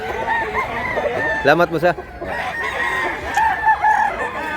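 A rooster, one of a number of fowl offered to buyers, crows once up close partway through, amid clucking and people chatting nearby.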